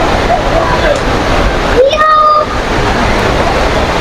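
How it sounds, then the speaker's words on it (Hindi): Artificial indoor waterfall at Jewel, Changi Airport in Singapore, a broad steady rushing roar of falling water filling the space, with a brief bird-like chirp and a person speaking briefly over it. "ये सामने है ज्वेल्स का आर्टिफिशियल वाटरफॉल्स।"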